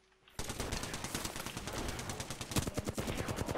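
Rapid gunfire in the video game Apex Legends, a dense rattling burst of repeated shots that starts abruptly and continues loud and steady, with a heavier blast partway through.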